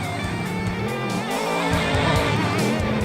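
A monster truck engine in the Rigs of Rods racing simulation revs hard and climbs in pitch, a loud, close, continuous roar with rising harmonics across the whole stretch.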